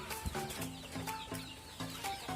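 Chickens cluck softly and repeatedly after being let out to feed on fine rice bran, several birds calling at a moderate distance with no voices.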